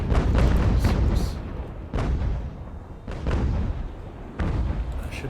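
In the naval video game Ultimate Admiral: Age of Sail, sailing ships fire their cannons in four loud, booming volleys. Each blast rolls out into a rumbling decay before the next.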